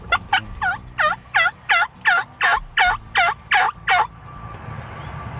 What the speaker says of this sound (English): I don't know if there was more gobbling